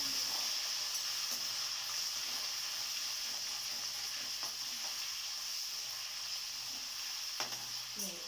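Ginger, green chillies and peanuts fry in a pan with a constant bright hiss of sizzling oil, punctuated by quiet scrapes and taps of a stirring spoon, close and fairly soft.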